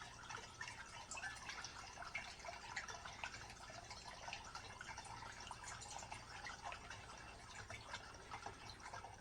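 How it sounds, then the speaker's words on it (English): Water poured into a glass bottle while starting a fresh batch of grape mead, a steady trickling fill that runs without pause, soft and close. "I'm just putting some water in"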